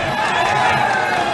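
Fight crowd in an arena getting riled up, a dense continuous roar of cheering and shouting that stays loud and steady throughout the short moment.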